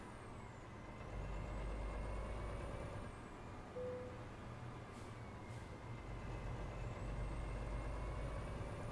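A truck in Euro Truck Simulator rolls through an unmanned toll gate, with a steady low engine drone throughout and a brief hiss partway along.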